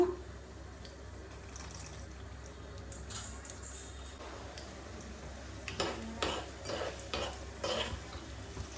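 Urad dal and chana dal fry in oil in a pan, with a soft low sizzle underneath and a spoon scraping and stirring in irregular strokes that get busier toward the end. No one talks.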